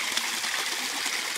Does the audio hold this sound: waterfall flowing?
yes